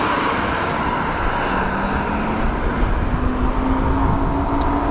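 An Urban Drift G63 electric scooter accelerates on pavement with a loud, steady motor whine that climbs slowly in pitch over a broad rush of wind noise.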